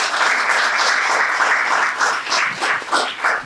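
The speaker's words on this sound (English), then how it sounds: "can y'all just clap for yourself as well?" Live audience at a podcast taping applauding steadily, a dense, close wash of many hands clapping that holds at a constant level for the whole stretch.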